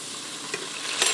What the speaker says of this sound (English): I'm gonna get my roast in there. And I'm gonna get it nice and golden brown on both sides.